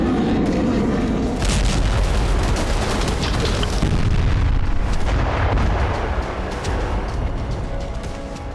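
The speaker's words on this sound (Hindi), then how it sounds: "आर्टिलरी के साथ हमले की प्रैक्टिस हो रही है।" Artillery firing during a military attack drill, a dense, continuous rumble of deep booms and blasts rolling one into another, loud and heavy throughout with no clear gaps.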